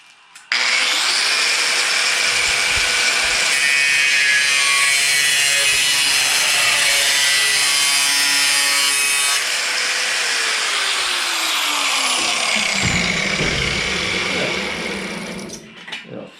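A saw cuts an incision into a part for a budget hot rod build, giving one loud, continuous rasping cut that runs for most of the stretch and then tapers off near the end.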